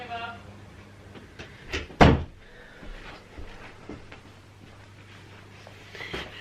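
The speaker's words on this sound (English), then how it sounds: "Just closing this door" An indoor door is pushed shut with one firm thud, with a few lighter knocks and rustles around it over a faint household hum.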